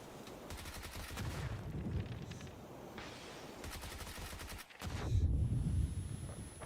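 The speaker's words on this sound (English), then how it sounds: "Couple of bullets hitting from Warlock." Video-game gunfire during a competitive league match: rapid bursts of shots in repeated volleys, loud and close, with a brief drop to near silence before a heavier burst resumes.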